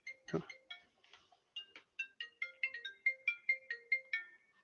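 A phone rings with an incoming call from the hospital, playing a bright electronic ringtone melody of quick, evenly spaced chiming notes that repeat alone in a quiet room.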